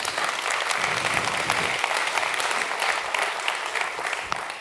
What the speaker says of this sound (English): please, a quick round of applause for our guests